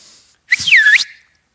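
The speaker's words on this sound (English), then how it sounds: "I just whistle real quick, just that little volume, that little sort of sound of my whistle, and they come running" Someone gives a single short, bright whistle that sweeps down and back up to call children in. It is loud and close, standing alone against near silence.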